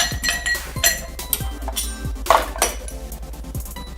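Ice cubes drop into a cocktail glass for a gin fizz, making a quick run of hard clinks and clatters against the glass, close and fairly loud, with no voices.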